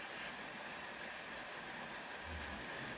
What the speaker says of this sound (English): This is only the second train to run across it.